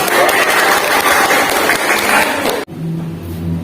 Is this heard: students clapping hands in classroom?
yes